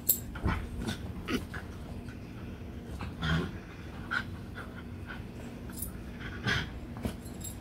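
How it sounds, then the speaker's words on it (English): A dog pants and gives soft whimpers and small yips close by, in scattered bursts over a quiet indoor background, with no speech. "Let's go play with the dog."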